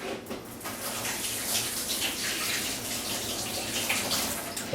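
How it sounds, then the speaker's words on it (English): A kitchen tap runs in a steady broadband wash of water for several seconds as hands are rinsed beneath it, close and continuous with slight splashing variation. "I'm going to wash my hands."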